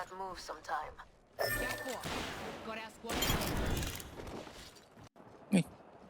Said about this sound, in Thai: เสียงปืนยังมีอีกอะ